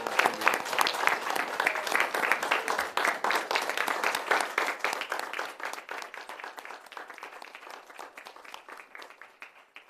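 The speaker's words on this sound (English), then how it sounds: "please join me in a round of applause" Applause from an audience at a school board meeting, crisp individual claps at first that gradually thin out and fade toward quiet.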